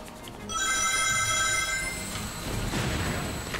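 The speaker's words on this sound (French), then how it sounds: "Ah, beaucoup de bruit d'anneaux d'un coup." A burst of bright, high chiming tones rings out at once as many rings are collected in a video game, then fades into a dense, hissing game soundscape.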